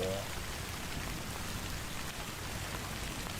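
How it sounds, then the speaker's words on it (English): Video game rain: a steady, dense hiss of rainfall pattering on surfaces, even and continuous throughout, with no other sounds rising above it. "It's raining."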